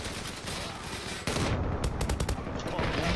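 Gunfire in the online shooter Zula: after a quieter stretch, loud rapid bursts of automatic shots crack close by, with several sharp separate reports clustered near the end.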